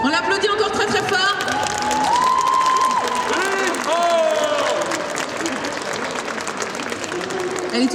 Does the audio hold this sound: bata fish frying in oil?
no